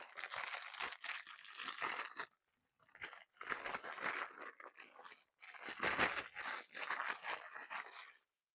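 Plastic packaging is crumpled and handled up close in bursts of sharp crinkling, with short pauses between handfuls and silence at the very end.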